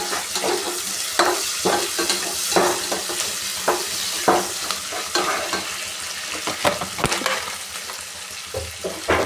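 Urad dal and chana dal fry in hot oil with onion for a wedding-style spiced cabbage palya. A close, continuous sizzle is broken by repeated scraping stirs at an uneven rhythm.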